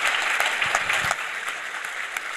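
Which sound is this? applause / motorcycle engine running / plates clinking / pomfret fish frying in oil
applause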